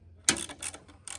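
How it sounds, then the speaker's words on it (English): Ratchet wrench tightening a chainsaw chain outdoors while cutting wood: a few quick, faint ratcheting bursts separated by short pauses, with no talk. "The old ratchet wrench."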